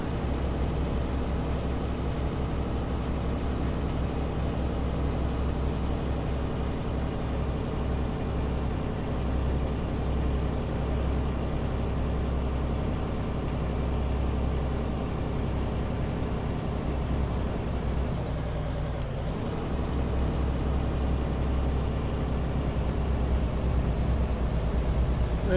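Kenworth K100 truck engine in Euro Truck Simulator 2, hauling a 62-ton tank uphill: a steady, loud low drone with a thin whine above it, broken by one brief dip before the drone resumes.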